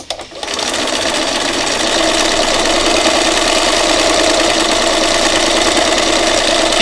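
A sewing machine stitches fabric for fiber art in a steady, continuous, close whir that runs without pause, with no talk over it.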